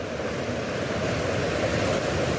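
Storm-driven sea waves crash and churn at Sanary in the Var during Storm Aline, a loud, continuous roar of surf mixed with wind buffeting the microphone, steady throughout with no voices.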